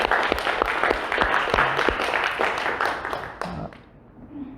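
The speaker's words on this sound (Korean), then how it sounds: "우리 하나님께 영광의 박수 올려드립니다." A church congregation applauds during a Sunday worship service, a steady wash of clapping that fades out after about four seconds, with no clear speech.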